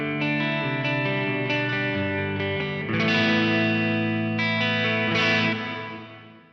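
A sustained instrument chord drenched in lush Lexicon 300 hall reverb, notes swelling and blooming into a long shimmering tail before fading out at the end.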